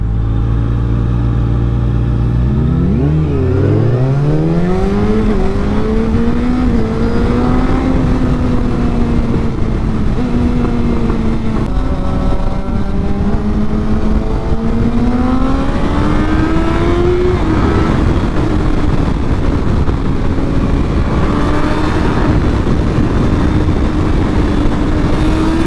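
Yamaha FZ1 and R6 motorcycles racing and accelerating, a loud engine roar that climbs through the gears in several rising sweeps, close and continuous for the whole stretch.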